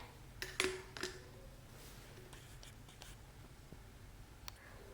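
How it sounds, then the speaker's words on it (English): Ordinary scissors make a couple of crisp snips near the start as they cut through material for a homemade soap dispenser. A faint hiss and soft handling noises follow. "I am going to cut some of this off with some scissors"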